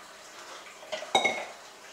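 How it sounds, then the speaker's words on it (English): A metal lid set onto a cooking pot of pelau rice, a faint scrape followed by a clear clank and a short rattle against the rim, alone in a quiet kitchen. "I'm covering up the pot now."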